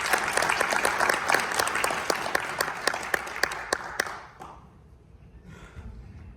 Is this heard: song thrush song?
no